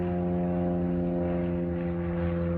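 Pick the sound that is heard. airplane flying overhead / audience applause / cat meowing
airplane flying overhead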